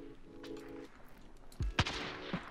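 An enemy player fires on the player in Call of Duty Warzone: a few short, sharp bursts of gunfire come through partway in, fairly faint, after a quieter stretch with a low tonal drone.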